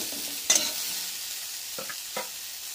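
Cauliflower florets fry in a pan while being stirred, with a soft steady sizzle broken by a few sharp scrapes and clinks of the spoon against the pan.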